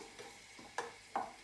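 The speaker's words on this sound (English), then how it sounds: "Let's give it a bit of a stir up." Food being stirred in a pan while cooking brunch, with pepper just added: a few soft scraping strokes, two sharper scrapes standing out, close and fairly quiet with no talking.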